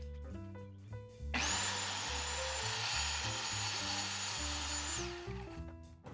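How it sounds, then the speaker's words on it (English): A circular saw plunges into MDF during a fireplace remodel, spinning up to a loud sustained high whine for about four seconds before winding down, with a motor hum rumbling before and after. "Again, just using a circular saw here."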